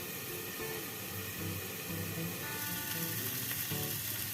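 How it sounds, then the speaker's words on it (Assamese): Egg dish frying in a covered pan on a home stove, a steady soft sizzle with faint crackles running throughout, close by and fairly quiet, with no talking. "এতিয়া মই এইখিনি ঢাকন লগাই লগাই অলপ সময় ভাজি থাকিম"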